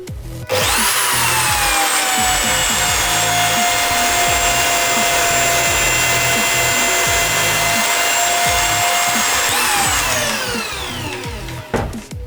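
HiKOKI D10VH2 electric drill mounted in a cheap drill stand boring a hole, a loud steady high whine that starts abruptly, holds for about nine seconds, then winds down.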